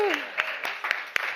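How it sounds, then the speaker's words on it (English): Audience applause at a JAM (Joining All Musicians) livestream event: a steady wash of clapping with a few sharper individual claps standing out, and a brief tone near the start. "So let's give a round of applause to"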